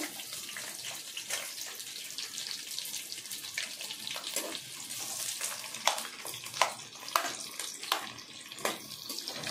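Onions and green chillies sizzle in hot oil for mutton biryani, a steady close crackle with sharper spits and pops in the second half.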